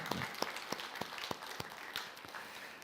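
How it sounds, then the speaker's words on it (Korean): A church congregation applauds to congratulate an elder during Sunday worship, a faint, thin clapping with a few sharper individual claps spaced through it. "우리 장로님 한번 축하 우리 박수 한번 하시겠습니다"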